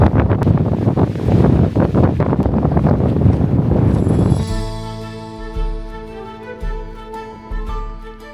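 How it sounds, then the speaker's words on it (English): Loud wind buffeting the microphone in heavy roaring gusts on the Isle of Skye, Scotland, then easing into lighter gusts over a steady humming drone. "oh my god, it's so windy"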